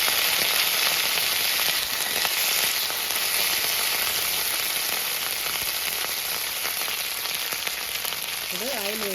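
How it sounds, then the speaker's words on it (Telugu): Small cut tomatoes fry in a pan for dondakaya roti pachadi, giving a steady, even sizzle that holds for several seconds, with a brief voice near the end. "టమాటాలు కూడా వేసి ఫ్రై చేసుకోవాలి"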